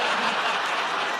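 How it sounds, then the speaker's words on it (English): A comedy show audience claps steadily, a dense, even patter of many hands mixed with a few chuckles, filling the room at moderate loudness. "I don't know if that's a group of people clapping or a couple of fatties leaving."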